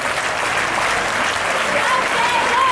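Schoolchildren at an Urdu literature week event clap steadily in a dense, continuous round of applause, loud and even from start to finish with no pauses.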